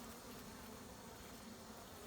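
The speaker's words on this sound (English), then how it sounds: "Look at all those bees trying to eat that honey." Honey bees crawl over hive frames around a bit of exposed honey, giving a steady, soft, close buzzing hum that runs unbroken throughout.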